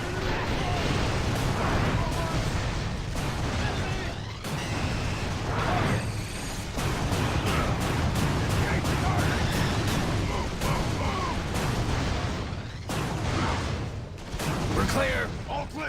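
Sustained gunfire and artillery blasts from the video game Vanquish roll on loudly and almost without pause, with sharp bursts and booms layered over one another and voices shouting in between.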